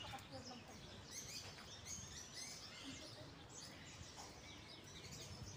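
Birds chirping and tweeting at a distance, quiet repeated calls scattered over a soft outdoor background with faint voices.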